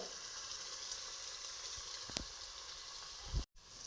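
Ginger garlic paste fries in a pan for a mushroom pulao, making an even, low sizzle with a single metallic clink partway through and a brief cut at the end.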